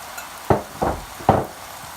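Pasta and mixed vegetables being stirred in a frying pan, three distinct scraping, sizzling strokes of a spatula spaced about half a second apart, close and fairly loud.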